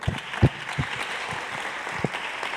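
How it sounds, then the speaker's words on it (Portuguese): Church congregation clapping in a round of applause, moderately loud and continuous with a few sharper claps standing out, no speech over it. "eu queria que a gente pudesse dar uma salva de palmas para Jesus, cara."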